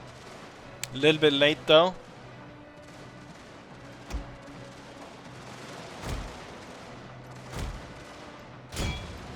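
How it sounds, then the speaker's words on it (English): Gunfire and artillery booms in a battle video game, a few distant sharp blasts spaced several seconds apart over a steady low battlefield rumble, with someone speaking briefly near the start. "Yes, now they're starting to fire."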